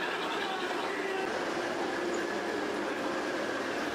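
A model train rolls along a folk art model railroad past a Soldiers and Sailors Monument display, a steady close whirring rumble that runs evenly throughout with no talk.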